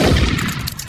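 Gunfire in a video game, a loud burst of rapid shots packed into under a second that fades quickly, with no talking over it.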